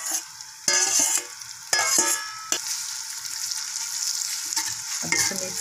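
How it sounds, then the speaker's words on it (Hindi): Onions frying in hot ghee for matar chawal, a bright hissing sizzle that swells in bursts with clattering stirring strokes, close and loud, settling into a steady crackle with no one speaking. "ये प्याज डाल दिए, घी में प्याज डाल दिए।"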